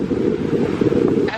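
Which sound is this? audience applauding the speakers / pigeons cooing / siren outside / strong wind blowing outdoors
strong wind blowing outdoors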